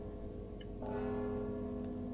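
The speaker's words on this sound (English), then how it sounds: "Don't you hear the bell?" A bell in the stealth video game Mark of the Ninja chimes once and sustains a steady ringing tone over a low game ambience.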